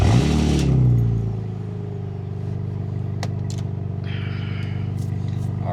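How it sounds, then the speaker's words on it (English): A BMW E39 engine, already warm, cranks and fires with a loud burst, then quickly settles into a steady, rumbling idle with a few light clicks. "Finna go ahead and get y'all a cold start real quick."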